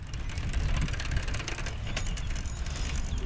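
Gears on a vintage Schwinn Suburban bicycle being rebuilt shift and ratchet with steady mechanical clicking and creaking, close and fairly loud, with no voices.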